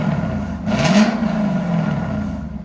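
Lexus IS 500 with a 5.0L V8 and an Alibaba axle-back exhaust, a single blip of throttle rising from idle into a brief rev, then falling back to a steady rumbling idle, close and moderately loud.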